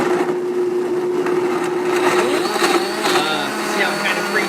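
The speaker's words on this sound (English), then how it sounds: "take control over the blender" A blender runs steadily while blending garlic hummus, a close, continuous churning whir with rough grinding texture, with people talking over it.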